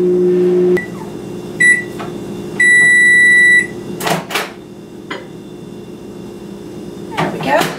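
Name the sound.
microwave oven heating coconut oil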